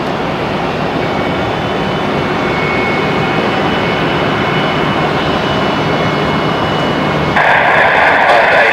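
Jet airliner on approach to land at Brisbane Airport, a steady loud broadband engine roar throughout that grows brighter with a whining tone near the end.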